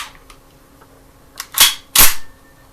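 A CZ52 pistol's action is cycled by hand to chamber and eject rounds, giving a few faint clicks followed by two loud, sharp metallic racks close by.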